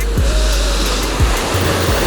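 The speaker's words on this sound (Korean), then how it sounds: "너울 파도가 너무 강하기 때문에" Strong ocean swell surging and breaking at a rocky sea fishing spot at dawn, a loud continuous wash of surf with heavy low rumble and a few deeper pulses of water.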